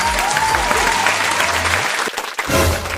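Loud audience applause greets a judge arriving on a comedy show stage, a dense steady clapping that dips briefly near the end before swelling again, with low musical tones underneath.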